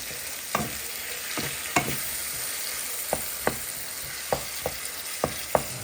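Garlic and tomatoes fry in a pan for chutney under a soft constant sizzle, broken by about nine sharp clacks of a spoon stirring against the pan at irregular intervals.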